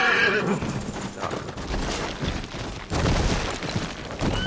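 A horse in Red Dead Redemption 2 whinnies loudly over clopping hooves, with a dense, busy game soundscape running steadily underneath for the whole stretch.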